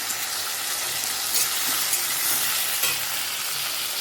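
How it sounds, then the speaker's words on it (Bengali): Potato pieces coated in salt and turmeric fry in oil, giving a continuous close crackling sizzle with small pops and stirring scrapes, with no voices. "নুন হলুদ মাখানো আলুটাও ভেজে নিচ্ছি।"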